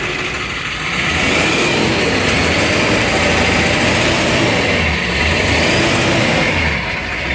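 A car engine revs loudly and continuously at close range, holding a steady roar with slight surges in pitch, no voices over it.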